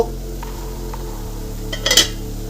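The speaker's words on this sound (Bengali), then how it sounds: "এবার ঢাকাটা তুলে দেখব" A metal lid lifts off a covered pan of simmering cauliflower stalks, giving a brief bright clink near the end over a steady low kitchen hum.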